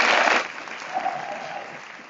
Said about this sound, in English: So please, friends, give them a round of applause.